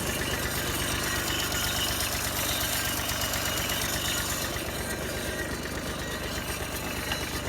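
A Kubota L3408 tractor's diesel engine idling steadily, a loud continuous knocking rumble heard up close with no pauses and no talking.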